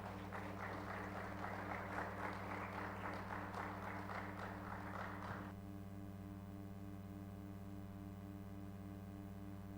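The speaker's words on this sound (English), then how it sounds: "It's okay to clap" A church audience claps for about five seconds during a sermon, a moderate, even patter over a steady low hum that continues alone after the applause stops.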